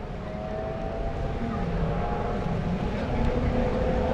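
Racing boats closing on the starting barge at a lake boat race: a loud, continuous engine drone that swells slightly toward the end, heard without talk.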